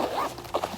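A brushed gold zipper with glitter trim on a red velvet Chanel holiday 2019 cosmetic bag is pulled open in one short, close scraping run that rises briefly near the end.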